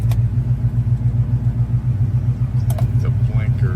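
A 1977 GMC K1500 truck with an electric fuel pump runs at a steady idle with a deep, even low rumble, close by, and a voice briefly talks near the end.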